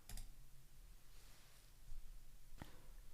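Two sharp mouse clicks on a Create Linode button while setting up a cloud VPS, one at the very start and another near the end, quiet and close, with faint room hiss between and no speech.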